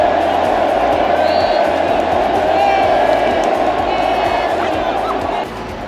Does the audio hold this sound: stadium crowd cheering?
yes